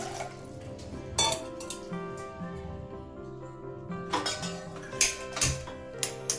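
A large pot is set out for water while guava candy is being made, with metallic clanks and ringing knocks at irregular intervals and a louder cluster of clatters toward the end.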